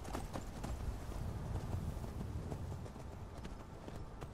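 Rapid video game horse hoofbeats drum at a steady galloping rhythm in Skyrim, fairly faint, with no talking.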